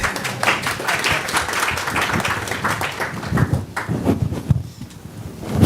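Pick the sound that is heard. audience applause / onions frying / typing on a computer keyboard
audience applause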